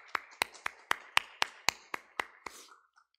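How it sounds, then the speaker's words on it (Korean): A church congregation at a Sunday worship service claps together in unison: about ten sharp, evenly spaced claps in a quick steady rhythm that then stop, with no talking. "우리 하나님 앞에 영광의 박수 올려드리겠습니다."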